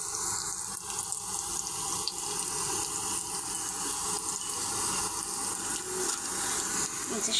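Chopped onions and dried red chilies frying in hot oil, a steady broadband hiss and sizzle that holds loud and continuous throughout without pause.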